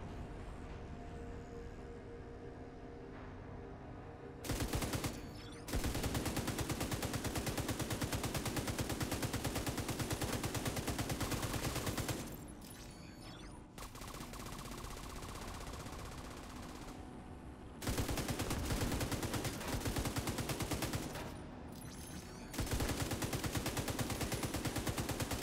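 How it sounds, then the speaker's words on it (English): Sustained automatic gunfire from the shooter video game The Division 2 in hardcore mode comes in long loud bursts that stop and restart, with quieter stretches of game ambience between them. "I'm just gonna cruise over here and shoot everything from here"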